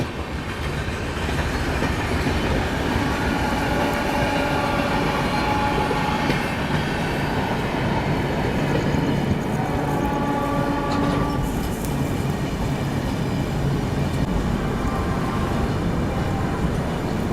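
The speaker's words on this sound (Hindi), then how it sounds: "अभी अपनी ट्रेन पहुंच गई है गोविंदपुरी जंक्शन स्किप करने" Rajdhani Express train running on the rails near Kanpur, a loud continuous rumble of wheels and carriages with rhythmic clatter heard from on board, steady throughout with no talk.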